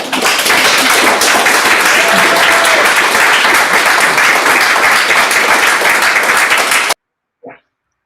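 An audience at a coding bootcamp graduation showcase claps in a loud, sustained round of applause that fills the room and then cuts off abruptly, followed by a short faint sound.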